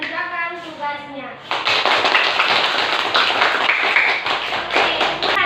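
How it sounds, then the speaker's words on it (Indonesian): A school class applauds the groups that presented, with a voice speaking briefly before a dense, steady burst of clapping from many hands that continues to the end. "sekarang kita beri aplaus untuk semua kelompok yang sudah presentasi dan mengerjakan tugasnya"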